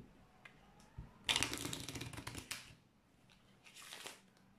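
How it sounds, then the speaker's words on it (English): Playing cards are reverse-shuffled by hand, giving a quick burst of crisp riffling flutters followed by a second shorter flurry, close and fairly soft with no voices. "I'm going to give this deck some reverse shuffle."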